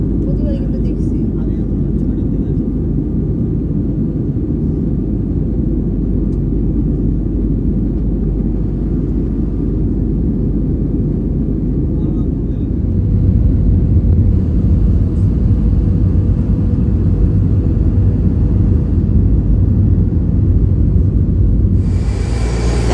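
Airliner cabin noise during the descent toward a landing in Thailand, a loud continuous low rumble and roar that deepens and grows heavier partway through.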